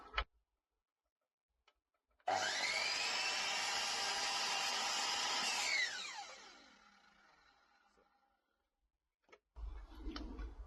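A power saw set to a 22.5-degree angle cuts wood outdoors, with a loud whining run of a few seconds that winds down as the blade slows, quiet before and after with a few knocks.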